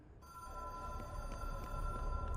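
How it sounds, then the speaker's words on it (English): An in-game telephone in the video game Control rings with a steady, sustained electronic tone over a low room rumble, continuous and fairly close, with no talking. "Phone is ringing."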